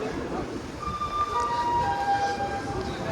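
A Ganpati special train from Borivali to Kudal starts moving, giving a steady broadband rumble with thin high squeals drifting in and out, heard from inside the coach with faint background voices.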